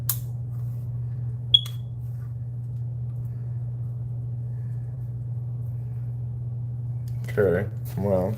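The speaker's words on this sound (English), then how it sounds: "This thing is beeping because it needs a new battery" A smoke detector with a low battery gives one short, high chirp early on over a constant low electrical hum, and a voice speaks briefly near the end.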